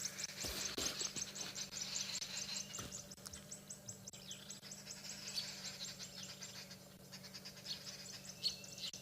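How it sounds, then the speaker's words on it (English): Many birds calling in the distance near a Wahlberg's eagle nest, a dense mix of high chirps and repeated trills over a steady insect drone, faint and continuous. "there's so much birds suddenly around"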